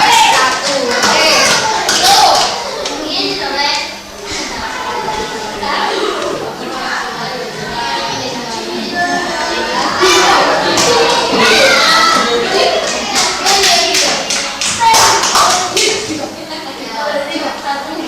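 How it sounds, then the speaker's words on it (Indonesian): Classroom applause from schoolchildren for a group presentation, steady mixed clapping and tapping with children's voices chattering throughout, loud and close. "Tepuk tangan untuk kelompok 1."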